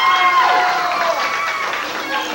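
A live crowd cheers and applauds wrestler Koko B. Ware, a steady roar of clapping and shouting that holds throughout, with a voice audible over the noise.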